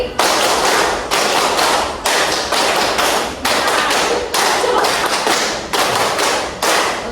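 Three rounds of five hand claps in a high school class clap game, a long, even series of loud, sharp claps with brief pauses between the bursts.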